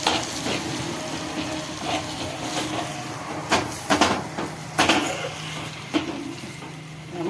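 Spices tempered in hot oil for a village-style mint chutney give a steady, close sizzle, with several sharp clinks and stirring knocks from the pan scattered through it. No one speaks.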